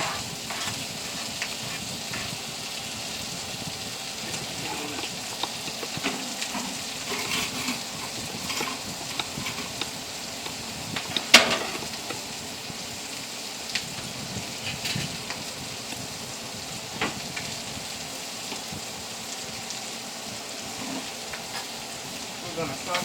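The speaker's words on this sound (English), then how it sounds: "We're going to saute the onions until they are soft." Onions sauteing in a pan for hamburger gravy, heard as a steady close sizzle and crackle of frying with occasional stirring scrapes and one sharp clink, alone and fairly even throughout.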